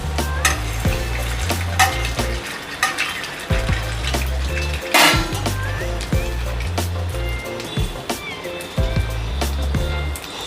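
Sabudana vadas shallow-frying in hot oil give a steady, close sizzle with crackling spatters and occasional utensil clinks, while a low rhythmic hum runs beneath; no speech is heard.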